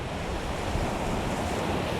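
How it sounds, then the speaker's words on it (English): Ocean waves breaking at Haulover Inlet, a dense continuous roar of surf mixed with heavy wind buffeting, loud and unbroken throughout. "Look, you see how the waves are breaking"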